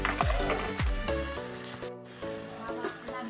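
Lentil fritters deep-fry in hot oil for rasabora, a bubbling sizzle with heavy clatter and a couple of swooping utensil sounds early, then a brief dropout before the frying continues more evenly.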